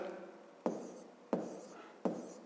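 A pen strikes and scratches on a notebook page while numbers are written: three distinct taps at regular intervals, each trailing into a soft scratch, quiet and close.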